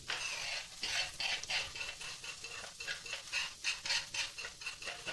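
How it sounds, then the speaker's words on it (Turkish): Pasta being stirred in a pot in a home kitchen: a soft, steady scraping and swishing in repeated strokes, close but quiet, with no talking. "Şöyle güzelce karıştıralım."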